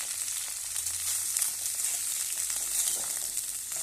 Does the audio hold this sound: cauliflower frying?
yes